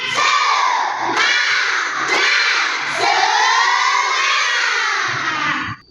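A classroom of Indonesian schoolchildren performs a spirit clap and cheer, chanting loudly together in unison with rhythmic claps marking the phrases, ending in a sudden stop.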